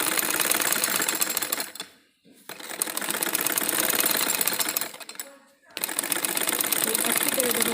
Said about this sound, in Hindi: अब हम इस तरह से पकड़ेंगे और एक सीधी सिलाई इसमें लगाएंगे।